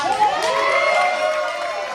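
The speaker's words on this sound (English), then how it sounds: "Let's cheer for the superstar." A wrestling arena crowd cheers for a superstar before a match, a dense sustained roar of many voices filling the space without a break.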